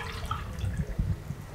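Water poured from a tea cup into a pot while cooking mutton kidney curry, a steady liquid splash and trickle lasting over a second, close and moderately loud with no talk.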